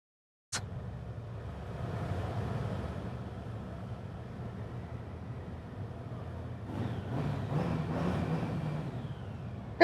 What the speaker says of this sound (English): rev your engines, you buggers. You're hard Harleys